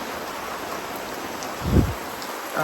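Heavy rain pours during a thunderstorm as a dense, steady hiss, with a brief low thump partway through and a faint tonal sound near the end.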